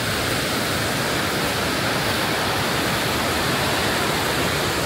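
A waterfall roars at the top of a cascade near a bridge in Japan, a dense, steady, broadband rush of falling water, loud and close, with no letup.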